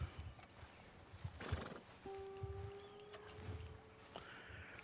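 A horse in Red Dead Redemption 2 whinnies with a long, tonal neigh, alongside hoof clip-clops and snorts, close and clear over faint background noise.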